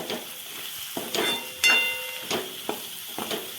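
Sliced hyacinth bean pods being stir-fried in a pan with red chili powder, a steady sizzle broken by several sharp scraping stirs of a spatula, close and moderately loud.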